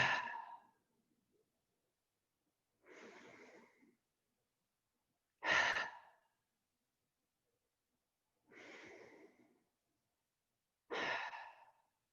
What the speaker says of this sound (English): let's all try a couple of prana breaths on our own. Close your eyes and let's do 3 of them together, just slowly. Big inhales and sigh